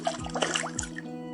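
A shiny stone plops into a big pot of water set on a fire, two quick wet splashes with a brief trickle in between, close and fairly quiet with no talking.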